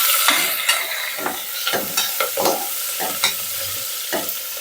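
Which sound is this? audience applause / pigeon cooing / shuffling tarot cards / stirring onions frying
stirring onions frying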